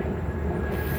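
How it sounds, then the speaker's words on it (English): An airplane droning overhead near a park, a steady low engine rumble filling the whole moment without a break, fairly loud and continuous with no voices. "That's airplane in the background"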